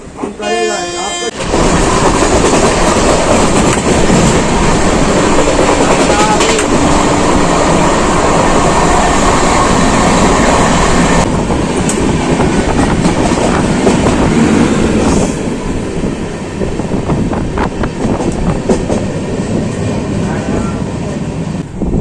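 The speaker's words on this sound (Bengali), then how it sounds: "আমাদের ট্রেন এখন ভদ্রক স্টেশন থেকে ছেড়ে কেওনঝড়ের উদ্দেশ্যে রওনা হচ্ছে" Passenger train running between stations in Odisha, heard from on board: a loud, continuous rumble and clatter of wheels on rails that stays steady throughout, with a brief toot near the start.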